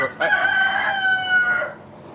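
A rooster crows once, long and loud at close range, and faint clucking fades in the background.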